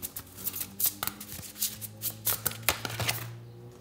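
Tarot cards being shuffled and drawn, a close series of crisp riffling flicks and slaps in an uneven rhythm, with a faint low hum underneath.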